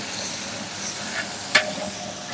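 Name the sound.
roasting garlic in oil, stirring and sizzling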